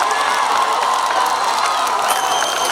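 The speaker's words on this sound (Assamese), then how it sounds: "এতিয়া আমি এওঁলোকৰ কাৰণে হাত চাপৰি বজাওঁ নে গোটেইকেইটাই?" A festival crowd in Hojai claps and cheers after a live song, dense steady applause mixed with whoops and children's shouts, loud and continuous throughout.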